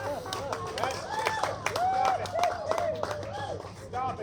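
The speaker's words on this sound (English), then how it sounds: "Stop it, that's pity applause" Scattered audience clapping at an outdoor alligator show in the Florida Everglades, light uneven claps mixed with crowd chatter and a voice talking over them.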